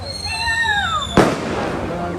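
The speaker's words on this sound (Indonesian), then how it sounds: "Dan kembali lagi terjadi bunyi ledakan Tribuners di kantor Wali Kota Bitung" A single sharp firecracker-like blast goes off partway through a disaster preparedness drill at the Bitung mayor's office, loud and close, with a steady background hum and a descending whistling tone just before it.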